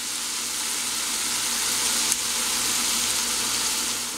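Ramen soup ingredients with miso paste, soy sauce, Sriracha and lemon juice sizzle steadily in a pan, a continuous close frying hiss with a brief louder crackle midway.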